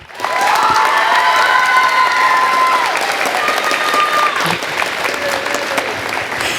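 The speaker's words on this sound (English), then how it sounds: "If we could give a collective round of applause for 2023's Game of Tiaras cast" Applause and cheering from an audience for the cast of a 2023 Game of Tiaras stage production, loud and sustained, with high shouts and whoops over dense clapping throughout.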